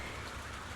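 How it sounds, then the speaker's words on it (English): Rain falling beside a river, a steady dense hiss of drops with no voices. "it's raining right now"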